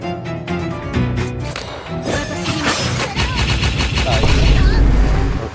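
Rapid bursts of gunfire and impacts in the video game Morimens crackle loud and close over layered game music and effects, with a voice speaking intermittently.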